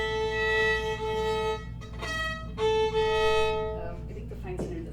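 Two sustained bowed violin notes sounding together as an out-of-tune tritone, clashing and slightly off, repeated twice with a short break between.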